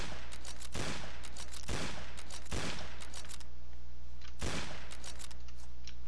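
Gunfire bursts from a shooter game called APOC, loud sharp cracks in a few clustered volleys with short gaps between them, over constant background game noise.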